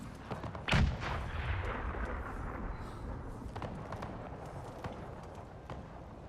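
A single heavy cannon blast firing canister shot in a Napoleonic-era battle game, close and booming, followed by a rumbling tail under scattered battlefield noise.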